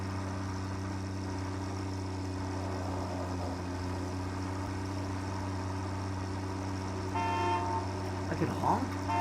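Horn blasts from a vehicle in the factory-building game Satisfactory, a brief honk near the end over a steady engine idle and low mechanical hum, loud and close.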